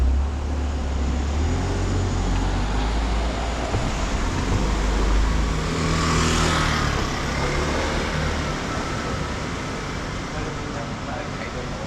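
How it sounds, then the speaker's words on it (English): Street traffic in Macau, diverted from closed streets, makes a steady loud roar of cars and trucks, with one vehicle passing close around the middle. "So all this traffic is being moved because some of those streets are cut off from traffic today."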